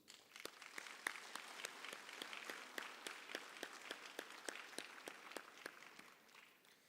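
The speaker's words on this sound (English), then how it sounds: "Let's give her a moment of applause, a round of applause." An audience at a national railway safety campaign event gives a round of applause: steady, even clapping from many hands, moderately loud and sustained for several seconds before tapering slightly.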